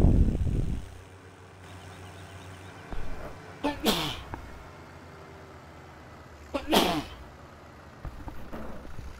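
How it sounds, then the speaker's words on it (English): A person sneezes twice, sharp and close, several seconds apart, over a low, steady engine hum from a farming game. "Oh, sneezing again."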